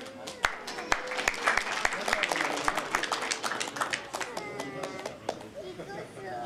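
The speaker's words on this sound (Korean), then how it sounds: "박수로 맞이해주시면 감사하겠습니다." Audience at a 60th birthday banquet claps to welcome a family representative to speak, scattered but steady applause with distinct individual claps and background chatter throughout.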